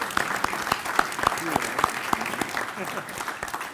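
An audience at a consular association event in Washington claps in a crisp, steady round of applause lasting a few seconds, close and lively, with a voice faintly audible underneath.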